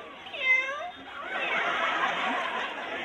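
A person imitates a kitten's meow with a short, rising-and-falling mewing cry, followed by noisy crowd chatter and light laughter at a street event.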